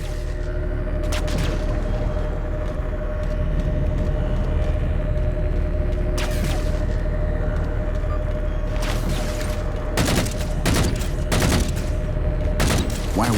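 Sustained gunfire and heavy explosions from the Halo 4 video game, a loud, dense barrage of rapid shots with a steady engine drone and several sharp blasts bunched toward the end.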